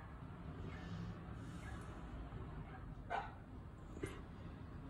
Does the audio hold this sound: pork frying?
no